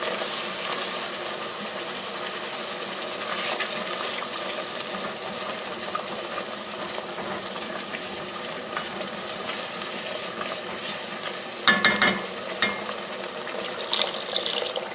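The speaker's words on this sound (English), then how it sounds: "Just keep scraping the bottom of the pot." A spoon scrapes the bottom of a pot of simmering lentil filling with stock, soft repeated scraping over a low bubbling sizzle, steady and close with a brief clatter near the end.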